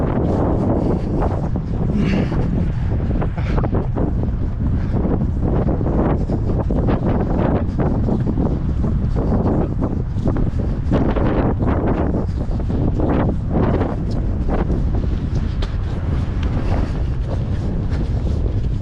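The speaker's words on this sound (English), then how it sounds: "So the wind tunnel right now, it's real gust." Strong gusting wind in a park buffets the microphone continuously, a loud roaring, rumbling rush that swells and surges in waves throughout with no pause.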